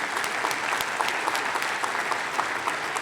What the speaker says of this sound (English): give Mr. Jeffries and Leanne Jeffries a great big round of applause